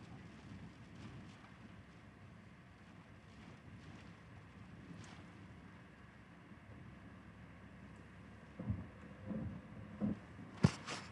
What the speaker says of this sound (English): getting some good gusts of wind here now.